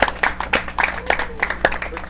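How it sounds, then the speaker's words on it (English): Short burst of audience applause for a new PhD candidate at a talk, scattered claps in a room, moderately loud with a few distinct hand strikes standing out. "Let's give Egam a quick round of applause"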